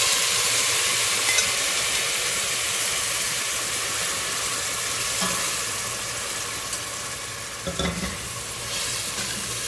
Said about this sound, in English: So I'm going to put in the tomato.